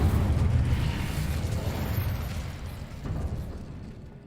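The Incendio fire spell blasts in the game Hogwarts Legacy, a loud whooshing, rumbling burst that starts at full strength and slowly fades over a few seconds, with no voices over it.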